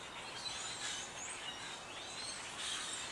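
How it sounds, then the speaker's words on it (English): Birds chirp outdoors, thin high calls scattered over a steady faint hiss, fairly distant and quiet with no voices. "Gosh, these birds!"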